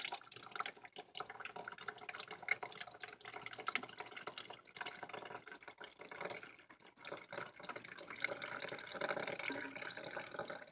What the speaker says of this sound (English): you can really, pinpoint where you're pouring the water and get them all wet